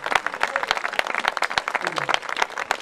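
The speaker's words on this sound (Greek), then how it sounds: "Ένα χειροκρότημα για τον πρόεδρο της Φιλαρμονική." Lively audience applause at an outdoor philharmonic concert in a castle, close and crisp with individual claps standing out and a few voices mixed in.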